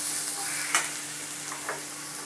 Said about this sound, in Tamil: பெரிய வெங்காயம் கொஞ்சம் நல்லா வதங்கணும்.